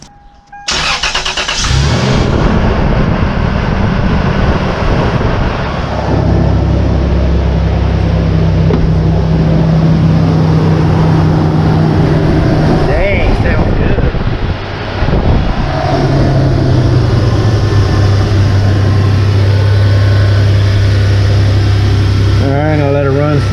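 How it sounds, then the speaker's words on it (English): A 2002 Toyota Tacoma TRD with over 300K miles cranks and catches, then idles loud and close with a low rumble that rises and falls slightly in pitch as the revs shift. "So let's start her up, see how she sounds."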